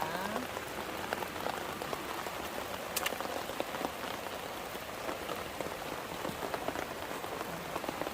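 Steady monsoon rain patters on surfaces and stones among rosette succulents, a soft continuous hiss with scattered nearby drips.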